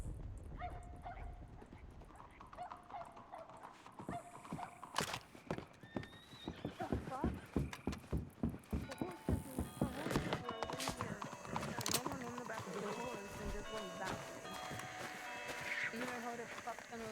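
Horses in a roleplay video game whinny and neigh several times over steady clip-clopping hooves, fairly close and loud, with voices talking at points through the scene.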